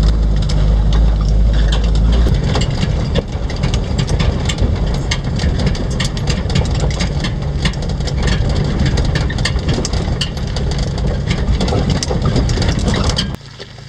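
Jeep-style four-wheel drive grinding up a rough dirt wash toward an old gold mine, engine rumbling steadily under constant crunching of gravel and rattling, loud and close, ending abruptly.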